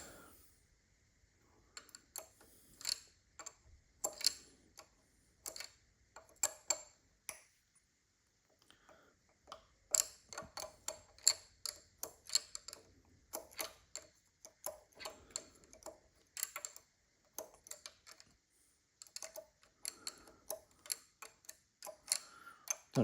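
Six 10mm bolts on a BMW S62 VANOS unit are backed off a couple of turns with a ratcheting wrench, producing close, crisp clicking ticks in irregular bursts separated by brief pauses.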